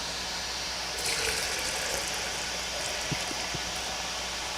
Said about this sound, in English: And then carefully pour it into the next